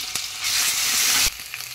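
Ginger garlic paste sizzles in a frying pan, bursting into a loud hiss and crackle when it hits the oil and then cutting off sharply.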